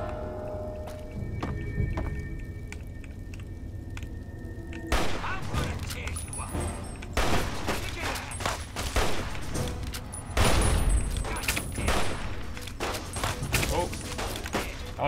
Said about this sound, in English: Oh, he shot the thing behind me.